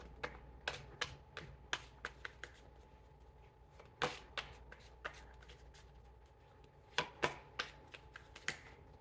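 Cards being shuffled by hand: a close run of crisp riffling and snapping taps, scattered irregularly with a few louder clusters, with no voices.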